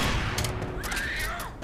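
Rapid shotgun blasts in the zombie shooter Left 4 Dead, several booming shots in quick succession over a dense game soundscape.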